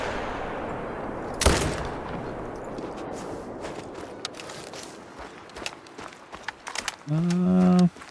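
A single sharp rifle shot rings out at a plains bison in theHunter: Call of the Wild, Yukon Valley. It cracks close and loud over quiet outdoor ambience, followed by soft rustling and a brief low rumble.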